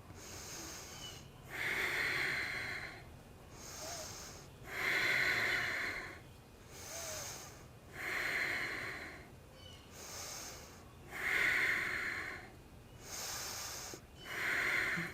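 Deep, slow breaths drawn through the nose during a yoga crow pose flow, close and soft, with about five regular inhale-exhale cycles rising and falling every few seconds.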